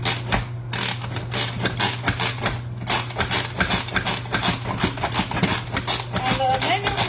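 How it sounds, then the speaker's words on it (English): A manual food processor chops tomatoes in a steady run of rapid rubbing, clacking strokes, close and fairly loud, with a constant low hum underneath throughout. "the manual food processor just takes everything and just chunks it up"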